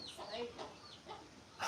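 Soft clucks from a hen on a ranch, a few short calls spread across the moment with a faint voice-like murmur in the background and a louder burst at the end.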